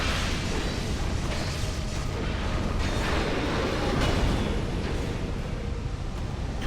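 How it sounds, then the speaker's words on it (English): A loud, dense explosion from the video game Dead Space 2 rumbles with a sustained roar and broad noise that swells around the middle and holds steady throughout, no voices heard over it. "That's gonna be explosion, isn't it?"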